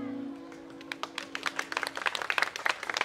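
Audience applause welcoming a singer onto a bar stage at a New Year's Eve show, beginning sparse and building into a dense patter of claps through the second half, with a faint musical tone fading beneath it early on.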